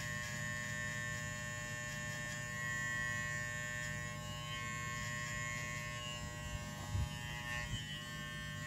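A cheap Walmart electric hair clipper buzzes steadily while cutting off a client's hair during a fade, a close, continuous motor hum with small shifts as the blade moves through the hair.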